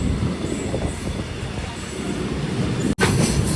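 A MEMU train hauling ICF coaches rumbles along at speed, a loud, steady roar of wheels and carriage noise filling the whole moment, briefly cut by a sharp break near the end.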